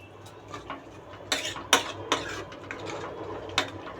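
Cooked rice for Bangalore-style veg donne biryani being stirred in a pot, with a handful of sharp metal scrapes and clinks of a spoon against the vessel, close and intermittent.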